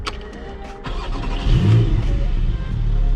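A 2024 Porsche Cayman GTS 4.0 fires up nearby: a starter whirr, then the engine catches with a loud flare of revs that settles into a strong, steady idle.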